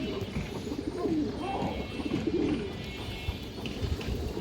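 Pigeons coo softly and repeatedly at close range at a pigeon market. The calls overlap against a busy murmuring background.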